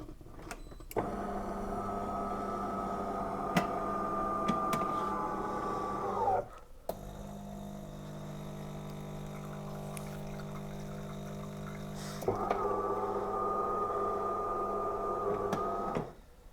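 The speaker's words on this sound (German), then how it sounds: "Jetzt schalten wir die Maschine aus." A DeLonghi Eletta Explore coffee machine shuts down with a steady motorised whir and pump hum that runs for several seconds, pauses with a softer drone, then whirs again before stopping; quiet and close.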